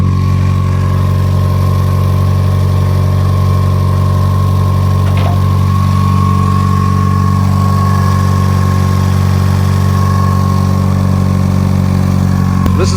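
A 1993 Mazda Miata engine runs steadily and loudly up close, a constant droning hum with loose parts buzzing and rattling faintly throughout.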